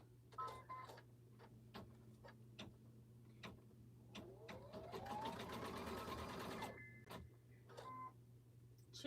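A domestic sewing machine runs through quilting stabilizer in a steady, fast mechanical stitching rhythm that swells in the middle and then stops, over a constant low hum, with no talking.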